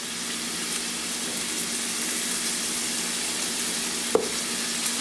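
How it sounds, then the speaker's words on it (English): Ground meat for a one-pot bolognese sizzles and caramelizes in a pot with garlic powder, pepper and salt, a steady close frying hiss broken by one brief clink of a utensil. "when the meat's starting to caramelize"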